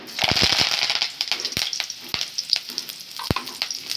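Curry leaves and onion hiss and crackle in hot oil in a pan, a dense continuous sizzle with sharp pops scattered throughout.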